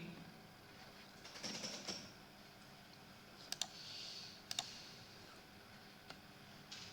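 Faint computer mouse clicks, a few quick doubled taps spaced over several seconds against a quiet background hiss.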